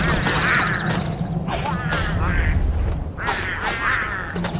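Pengulls in the game Don't Starve squawk while fighting, repeated warbling honk-like calls in short bursts over a busy, noisy game background.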